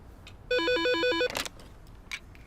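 Telephone ringtone for an incoming call: a loud electronic warbling tone alternating rapidly between two pitches for under a second, then a brief rustle and faint sounds afterward.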